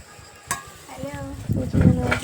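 Luchi frying in hot oil in a wok give off soft sizzling and bubbling, with a light clink of a utensil against the pan.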